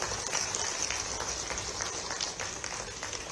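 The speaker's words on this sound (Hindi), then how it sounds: "जोरदार तालियां हों।" Audience applause at a Madhya Pradesh state forest development corporation 50th anniversary ceremony welcoming the chief minister, heard as a dense, steady patter of clapping from a crowd, moderately distant and fairly quiet, lasting throughout.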